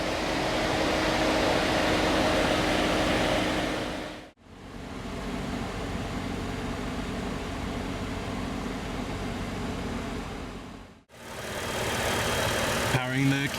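The 3.6-liter V6 of a 2017 GMC Acadia Denali runs at a steady idle, a close, even hum heard in three stretches broken by brief dropouts.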